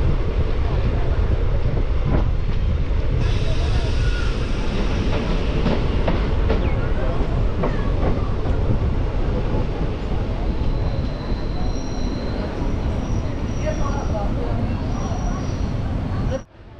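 A DEMU passenger train on the Tiruchirappalli–Karaikal line rumbles steadily along the rails from onboard, with continuous loud running noise, faint clicks and brief high squeals, and a voice talks over it at times.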